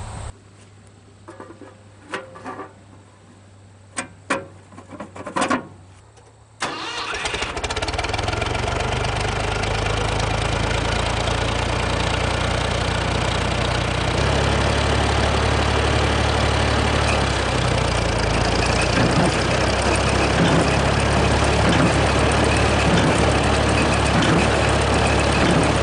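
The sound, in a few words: hay baler tractor engine starting and idling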